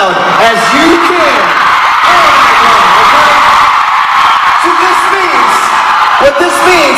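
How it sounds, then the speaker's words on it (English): A concert crowd at a show in Porto Alegre screams and whoops loudly and continuously, dense high-pitched shrieks filling the whole stretch with no pause. "I need you to scream as loud as you can."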